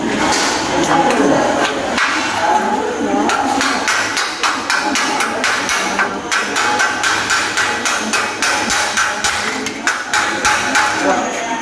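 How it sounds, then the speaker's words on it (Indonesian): A slag hammer chips slag off a SMAW T-joint weld in a welding workshop, giving rapid, irregular metallic taps throughout. Dense workshop noise runs underneath, and a voice talks over it. "Selanjutnya langkahnya itu dibersihkan menggunakan palu terak."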